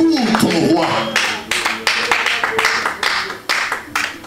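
A church congregation clapping and cheering in worship, loud irregular hand claps bursting under a speaking voice and crowd noise.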